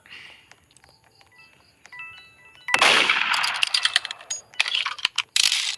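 Gunfire in a shooting video game, a sudden dense burst of loud cracking shots and rapid bursts after a quieter stretch of pinging game tones and chimes, with no voices.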